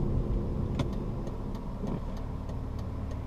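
An old, worn-out car runs with its engine droning at a steady low hum from inside the cabin, accompanied by a few light clicks and rattles, and no one speaks.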